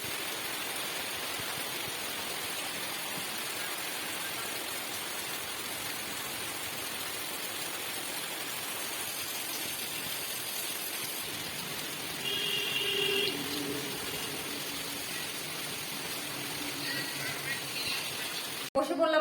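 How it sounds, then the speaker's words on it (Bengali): Rain falling outside a bedroom window, recorded from a phone resting on the sill: a soft, steady hiss of rainfall, fairly faint and even, with a brief louder patch midway and a knock at the end. "বৃষ্টি পড়ছে দেখো, তোমাদের একটু বৃষ্টি শোনাই"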